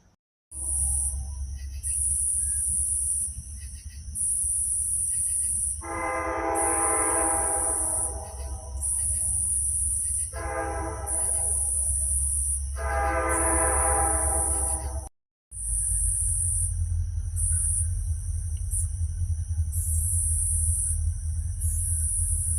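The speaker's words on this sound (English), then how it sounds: "You guys hear the train?" A train rumbles past steadily, its horn sounding in several long blasts partway through, with a constant high whine over the whole pass.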